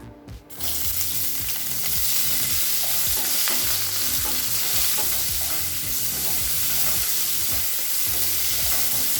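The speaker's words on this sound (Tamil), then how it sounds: "இப்போ வெங்காயம் நல்லா வதங்கிடுச்சு" Sliced onions and curry leaves sizzle loudly in a hot pan for ridge gourd chutney while a spoon scrapes and stirs them steadily, a dense frying hiss that never lets up.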